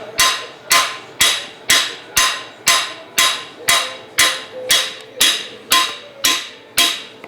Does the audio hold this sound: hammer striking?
yes